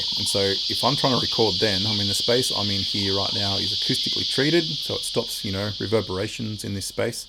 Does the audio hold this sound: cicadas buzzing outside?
yes